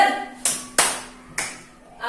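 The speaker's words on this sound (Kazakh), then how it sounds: "Жұп санға біз шапалақтаймыз, тақ санда біз шапалақ ұрмаймыз" Second-grade children in a maths lesson clap their hands during a number game: four sharp, close claps at uneven intervals, separated by near silence.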